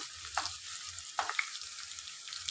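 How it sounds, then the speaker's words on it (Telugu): Onions frying in a pan for a cabbage and green pea curry give a soft, steady sizzle, with two sharper stirring scrapes near the start and middle, and no voices. "ఇప్పుడు ఆనియన్స్ అయితే మంచిగా మనకి ఫ్రై అయితే అవ్వాలి."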